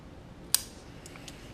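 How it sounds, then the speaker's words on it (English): The tip of a pair of scissors snips leather for a bucket tote bag, one sharp close cut followed by two fainter small clicks, in a quiet room with no talking. "Now I'll just use the scissors, the tip of the scissors,"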